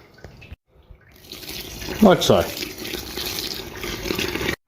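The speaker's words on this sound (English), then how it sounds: "Now it's time to sparge, which means pouring some hot water over the grain." Hot sparge water is poured over the grain in a home brewing mash, a steady close splashing and trickling flow that starts midway and runs on, with a brief spoken remark over it.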